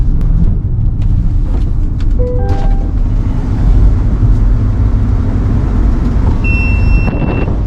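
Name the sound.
Corvette E-Ray driving on a race track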